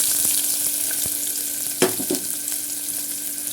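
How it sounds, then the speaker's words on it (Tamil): Sliced onion and curry leaves sauté in hot oil with a steady close sizzle, broken by a brief burst of louder crackling and stirring partway through. "போட்டு நல்லா வதக்கிக்கலாம்."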